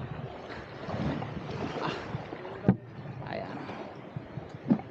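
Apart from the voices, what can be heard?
small boat moving on water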